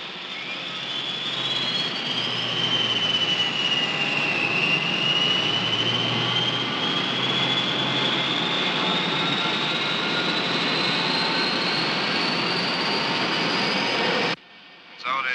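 An airliner's jet engines during takeoff, a loud sustained roar with a rising whine that climbs and holds for a long stretch before cutting off abruptly.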